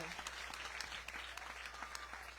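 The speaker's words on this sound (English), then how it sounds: "So let's give them a round of applause also." A crowd claps steadily at a Ganesh Utsav celebration at a Hindu temple, dense applause that holds at an even level throughout, heard from a little way off.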